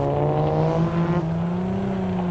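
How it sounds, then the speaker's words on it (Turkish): A car engine in the video game Ring of Elysium hums steadily at moderate revs, pitch rising slightly and then settling, with a smooth synthetic tone and no voices. "Araba seslerini biraz kısmışlar sanırım."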